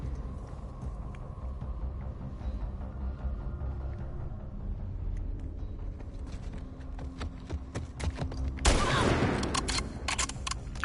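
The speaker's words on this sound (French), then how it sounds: "c'est le fusil de chasse, je croyais que c'était le fusil à pompe" Hunting rifle fired in The Last of Us Part II, a single loud shot bursting out near the end over a steady bed of game ambience, with no voice over it.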